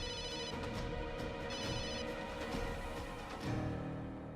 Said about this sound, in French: Puis Chad ne décroche pas l'appel.